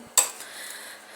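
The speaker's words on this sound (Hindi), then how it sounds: "तो चढ़ा दिया फ्राई पैन दाल वाला और डालते हैं इसमें ऑयल।" A frying pan set on a stove for dal tadka gives one sharp metallic clank, then a faint lingering ring and soft rattle fading into quiet.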